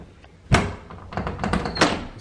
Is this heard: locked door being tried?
yes